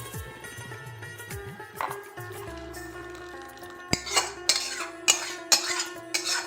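Pot of cooked biuli dal being poured out in a home kitchen, with soft scraping and metal clinks from a ladle against the pot, then sharper taps and knocks at the end.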